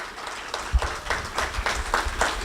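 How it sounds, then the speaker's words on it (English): A civic forum audience claps for the panel and moderators, a modest, uneven patter of hands with a few sharper individual claps standing out across the room. "Let's give them a round of applause."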